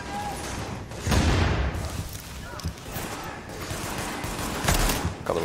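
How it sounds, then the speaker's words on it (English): A grenade detonates in The Division, a loud boom with debris rumble followed by scattered gunfire and a second blast near the end, all under a busy game soundscape with talk. "let's chuck a lob of grenade"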